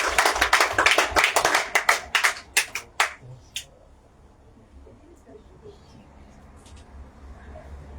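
A church congregation claps together at a memorial prayer service, a dense burst of hand claps for about three seconds that quickly dies away into quiet room noise.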